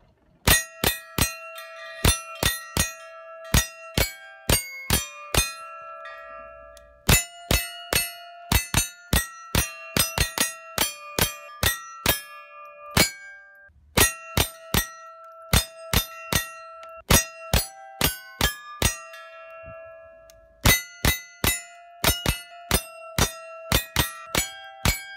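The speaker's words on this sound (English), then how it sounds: "Today's video I'm gonna be shooting Jingle Bells with my Volquartsen Superlite 1022 rifle, Leupold scope, and ammunition by Winchester." A Volquartsen Superlite 10/22 .22LR rifle with Winchester ammunition rings musical steel targets playing Jingle Bells, each shot a sharp clang with a sustained bell-like tone, fired in quick melodic runs with brief pauses between phrases.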